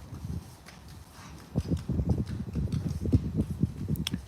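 Cattle on a farm shuffle and step about nearby, producing a steady run of soft, irregular hoof thuds and rustling that grows busier partway through, with no talking.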